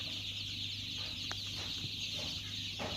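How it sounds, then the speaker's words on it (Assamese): Chicks and chickens on a poultry farm, a dense continuous chorus of high peeping with occasional clucks, moderately close and steady throughout with no talk. "চাওক কিমান পোৱালি।"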